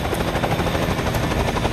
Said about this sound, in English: Gotta get out of the chopper.